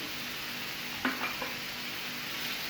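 Chicken fajita being stirred with vinegar, salt, black pepper, garlic powder and oregano in a pan, soft sizzling under a couple of brief scraping stirs, faint and close.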